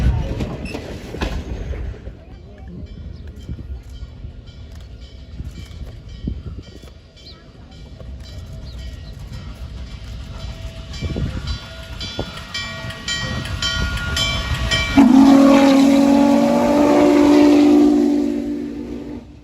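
Ex-Norfolk & Western 611 steam locomotive running on the Strasburg railroad, a continuous rumble of rolling stock that swells near the end as a loud, tonal steam whistle blows for several seconds close by.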